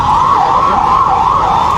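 Wailing emergency vehicle siren during a rescue after debris fell from a building in Panipat, rising and falling in a steady, loud cycle that fills the whole stretch with no talk over it.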